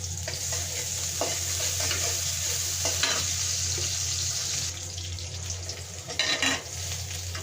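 Chopped onion fries in oil in a pan, giving a steady, close, dense sizzle throughout with a few brief stirring scrapes and surges near the end; no one speaks.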